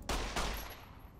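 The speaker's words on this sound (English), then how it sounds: "I'm wasting all of my bullets though" Two quick gunshots crack in Fallout New Vegas about a quarter second apart, then fade into a low rumbling tail, fairly quiet overall.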